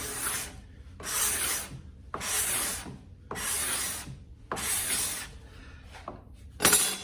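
A hand-held card scraper rasps across a wooden surface in five long, even strokes with short pauses between them, close and fairly loud, with no voices.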